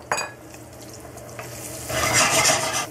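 Garlic frying with shrimp bits in a pan: a brief clatter as it goes in, then a steady sizzle and scraping stir that swells louder near the end, close up with no talking.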